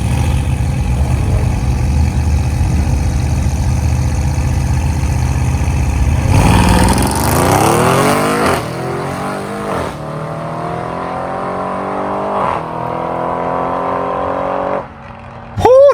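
A drag racing car, a 1400 horsepower Nissan GT-R at Greer Dragway, idles with a rough, loud burble, then launches with a roar. The revs climb through several quick gear shifts as the engine pulls away.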